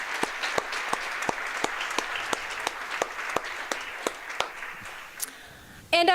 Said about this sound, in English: Please, a round of applause for Kagan Rogers.